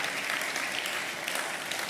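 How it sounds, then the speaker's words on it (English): Steady clapping from a crowd, a dense and even wash of applause that carries on without a break. "Please, let's give them another round of applause."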